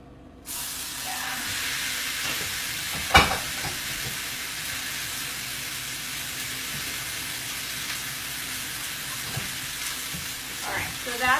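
Grass-fed beef fries in a hot pan with a loud, continuous sizzle and hiss, a sharp spitting burst early on, then steady crackling with occasional stirring sounds.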